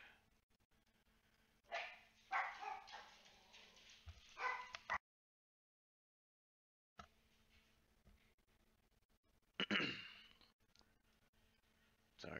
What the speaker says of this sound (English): Sorry, dogs again.